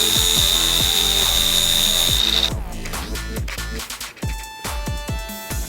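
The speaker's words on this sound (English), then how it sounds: "Then we're gonna take the grinder" A grinder works down metal nuts on a homemade GoPro kayak pole built from a Targus monopod: a loud, high steady whine, then a run of sharp rattling clicks and knocks close by.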